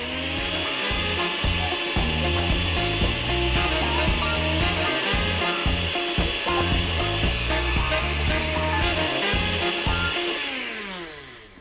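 A blender whirs steadily, blending fresh nettles with about a quarter bottle of water into juice; the loud motor roar runs continuously for around ten seconds with shifting tones before winding down at the end.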